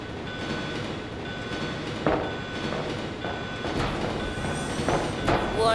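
A train in the video game Resident Evil 2 rumbles along its rails with a steady low roar and a few clanks and metallic screeches, sounding close and continuous.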